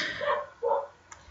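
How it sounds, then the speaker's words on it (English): A large dog gives two short barks close by, the second following about half a second after the first, with a faint click after them. "oh, listen, that's our dog"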